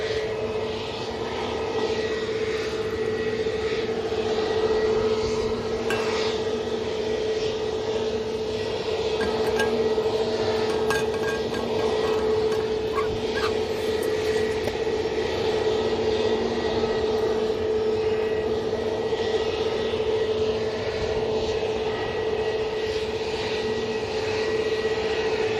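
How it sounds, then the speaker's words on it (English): A propeller aircraft arrives at Manchester Airport with a steady, loud engine drone and a sustained hum that holds for the whole stretch, with no voices over it. "There's a prop arriving"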